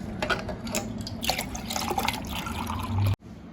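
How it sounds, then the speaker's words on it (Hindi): Milk is poured back into a container, a steady liquid splashing and trickling for about three seconds before stopping abruptly, close by with no talk. "अभी हम इस दूध को वापस डालेंगे"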